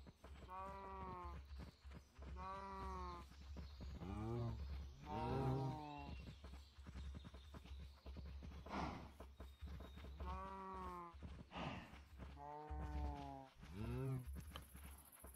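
Cows in modded Minecraft 1.16.5 moo repeatedly in a game farm setting: a series of drawn-out bovine calls spaced a second or two apart, clear and moderately close, with occasional talk between them.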